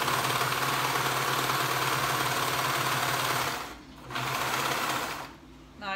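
A sewing machine stitches a neckband onto a knit top, a rapid mechanical whirring drone running steadily, briefly pausing twice before resuming.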